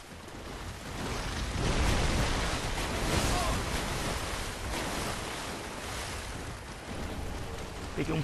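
Splashing through water in the video game Dark Souls III, heard as a steady rushing, sloshing wash of water that swells slightly and then holds, with no one talking.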